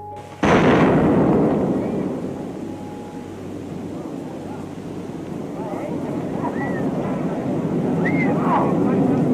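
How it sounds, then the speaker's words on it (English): A nuclear bomb's shockwave hits with a sudden loud bang, then gives way to a deep, sustained rumbling that swells again toward the end, heavy and roaring like wind across the microphone. "That deep rumbling you hear is the sound of the fucking earth being sucked into the mushroom cloud."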